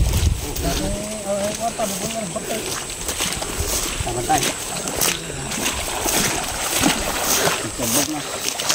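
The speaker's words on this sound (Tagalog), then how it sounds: "lakas ng tubig ah." A strong mountain river in Cagayan rushes and splashes continuously close by, with a person talking over the churning water.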